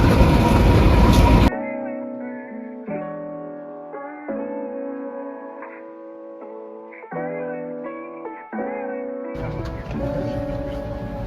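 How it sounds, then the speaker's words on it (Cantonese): The Overland diesel train pulls out of Southern Cross station in Melbourne, with a loud rumbling burst at the start, steady droning engine tones in the middle, and rolling rail noise returning near the end. "Overland 列車就正式準點開出 Southern Cross 嘅站台"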